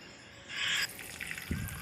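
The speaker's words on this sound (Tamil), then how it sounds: "கொஞ்சமாக தண்ணி ஊற்றி ஊற வச்சுருங்க." A small amount of water is poured into a bowl holding poppy seeds and cashews, giving a short trickling splash followed by a few faint drips and a soft knock.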